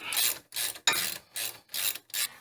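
A ratchet wrench loosens the caliper bracket bolt on a Toyota Tacoma during a wheel bearing job, giving six quick, close bursts of raspy ratcheting in a steady back-and-forth rhythm.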